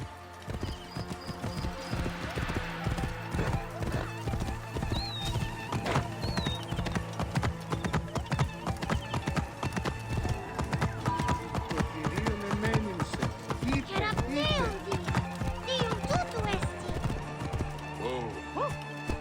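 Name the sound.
horse hooves and neighing in video game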